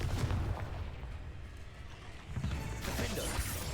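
A Confringo fire spell blasts in Hogwarts Legacy, a dense booming burst of fiery impact noise with rumbling low end, then a second loud surge near the end amid continuous game combat sound.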